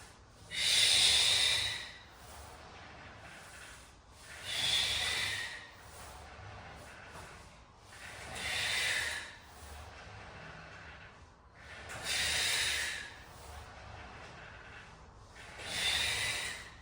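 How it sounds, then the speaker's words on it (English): Deep rhythmic breaths during an exercise workout, five loud airy in-and-out breaths spaced a few seconds apart, close to the microphone with no talking. "Breathe in, breathe out, sweep it up."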